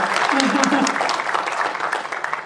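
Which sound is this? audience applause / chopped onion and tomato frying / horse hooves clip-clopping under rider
audience applause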